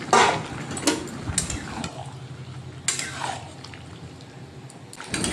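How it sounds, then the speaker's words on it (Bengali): Prawns stirred into Malabar spinach cooking in a pan, with a few scraping stirs and light sizzling spread across the clip, close by and moderately loud. "এরপর চিংড়ি মাছগুলো ওপর থেকে দিয়ে দেবো, দিয়ে নেড়ে নেবো।"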